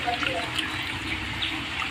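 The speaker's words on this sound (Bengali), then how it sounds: "এভাবে হাত দিয়ে এইভাবে ঘষে ঘষে ধুয়ে নিতে হবে।" Potatoes being washed and scrubbed by hand in a basin of water, a steady close splashing and trickling wash running without a break under the rubbing.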